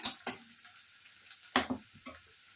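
Chopped ginger dropped into a hot pan for chilli paneer, giving short soft sizzling bursts and stirring scrapes with quiet gaps between, fairly faint and close.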